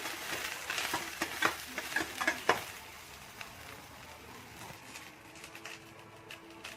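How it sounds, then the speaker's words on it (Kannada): Onion, garlic and chillies fry in oil in a pan for a village-style country chicken curry, a soft steady sizzle with scraping stir strokes early on, then quieter frying alone. "ಈರುಳ್ಳಿ, ಬೆಳ್ಳುಳ್ಳಿ, ಮೆಣಸಿನ್ಕಾಯಿ, ಎಣ್ಣೆ ಚೆನ್ನಾಗಿ ಫ್ರೈ ಆಗಬೇಕದು"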